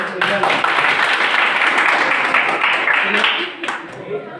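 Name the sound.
loud applause for quiz students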